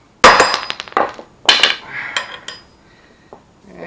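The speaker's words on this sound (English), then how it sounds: "And give it a few good whacks." A hammer strikes a small socket set on the cap of a universal joint to drive it out of a 1966 Mustang driveshaft, giving several loud, ringing metallic whacks close by at irregular spacing, with fainter clinks between them.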